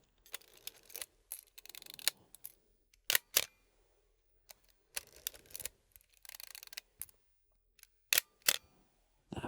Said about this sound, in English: This is the Pentax K1000. I think a very famous and very well used film camera.